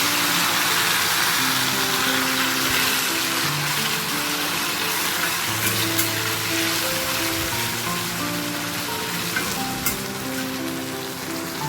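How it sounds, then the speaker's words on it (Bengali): Black cumin seeds (kalonji) sizzle steadily in hot oil in a pan, a continuous close hiss with gentle sustained musical tones running underneath. "দেখো তেলটার মধ্যে আমি একটু কালো জিরা দিয়ে দিয়েছি"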